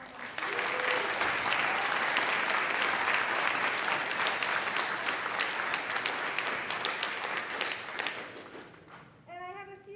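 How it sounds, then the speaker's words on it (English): Concert audience at a spring pops concert applauding the seniors, a dense sustained clapping that fills the room for about nine seconds, then fades as a voice begins speaking at the end. "So if I could have just a round of applause for all of our seniors."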